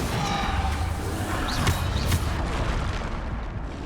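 A Depulso spell impact in the Hogwarts Legacy video game, a dense booming blast with a couple of sharp whooshing hits amid continuous loud combat noise.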